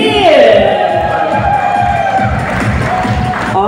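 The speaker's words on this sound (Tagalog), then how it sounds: "Ang hiyawan at palakpakan para sa defending champion, ang Green Team!" A crowd at a covered basketball court roars for the defending champion Green Team, loud sustained cheering and shouting that fills the space, with clapping blended into the din.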